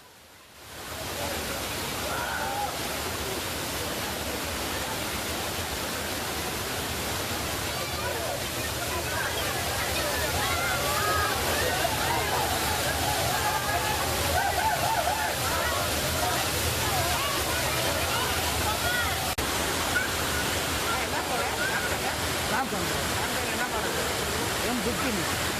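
Suruli Falls in Theni District pours down as a steady, dense roar of falling water. It is loud and unbroken throughout, with a constant rush and splash and no clear pauses.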